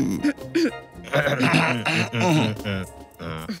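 People clearing their throats nearby, a series of short rough grunting rasps one after another over a few seconds.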